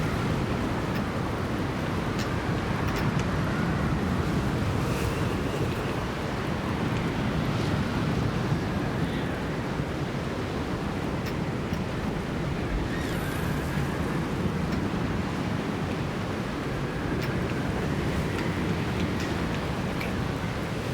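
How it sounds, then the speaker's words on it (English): Strong wind roars steadily in the climbing video game Jusant, a constant loud broadband rush with no talk over it. "Real windy."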